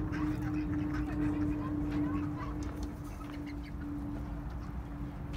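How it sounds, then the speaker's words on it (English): Ducks quack repeatedly in short, overlapping bursts over a steady background hum, fairly close and busy throughout. "We've always had 6 ducks."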